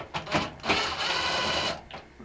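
Screws are removed from the door switch of a Kenmore dryer: a few short mechanical bursts lead into a sustained whirring run, close but fairly quiet.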